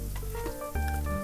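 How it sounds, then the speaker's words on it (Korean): Sliced green onion and carrots stir-frying in oil in a pan for fried rice, a steady loud sizzle with clattering and scraping as the vegetables are tossed. "파가 어느 정도 볶아졌다 싶어서 당근을 넣고 추가적으로 다시 볶았습니다."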